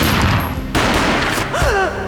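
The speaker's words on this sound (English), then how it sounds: "A gunshot boomed and she fell down in slow motion." Gunfire in the Max Payne video game, a loud dense burst of booming shots that fills the short moment, close and forceful, followed by a brief whining tone.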